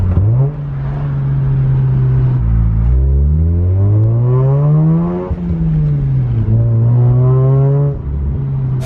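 Mazda RX8 R3 rotary engine running through a cheap eBay exhaust with a high-flow cat mid-pipe, idling and then revving up and down in several smooth rising and falling sweeps, loud and close with a droning buzzy tone.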